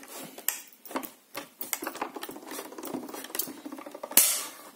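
A manual die-cutting machine being cranked with cutting plates passing through, giving close clattering, ratcheting clicks in an uneven rhythm and a louder clunk near the end, with no speech.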